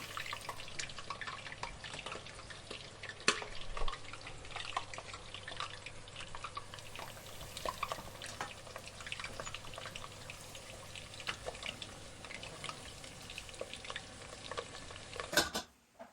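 Soft, steady frying crackle of vadas in oil over a low flame, with faint bubbling and occasional clicks, quiet and continuous, with no voices.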